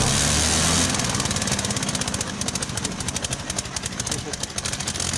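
A run-down radial aircraft engine idles slowly and roughly, with a loud, steady stream of uneven low pulsing throbs close by. Talk may be mixed in.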